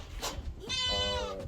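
Goats being moved to a farm by truck let out a close, loud, wavering bleat after a shorter call, with rumbling background noise.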